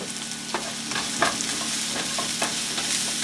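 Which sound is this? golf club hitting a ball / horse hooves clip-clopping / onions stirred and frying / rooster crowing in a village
onions stirred and frying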